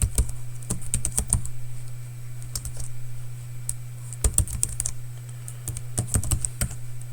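Quick bursts of keystrokes on a computer keyboard while an email address is typed in, crisp and close, in uneven clusters separated by short pauses over a steady low hum.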